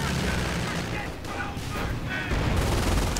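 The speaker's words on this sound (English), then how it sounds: "Rifleman running away in the face of all that machine gun fire." Dense machine gun fire and explosions crackle through a 2v2 video game battle, a continuous loud clatter of automatic bursts mixed with heavier booms.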